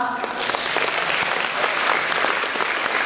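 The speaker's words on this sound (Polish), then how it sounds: "Jeszcze raz wielkie brawa." Sustained, dense applause from an audience at a cosplay costume contest, steady and fairly loud throughout with no voices standing out.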